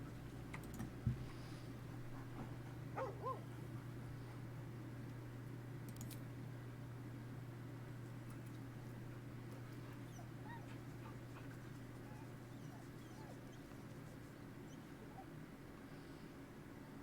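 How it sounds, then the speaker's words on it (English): Dog whimpering in Baldur's Gate 3, faint high whines over a steady low electrical hum, with soft keyboard typing and a few light clicks. "so this dog wants to talk to me"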